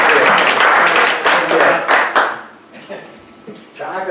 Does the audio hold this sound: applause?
yes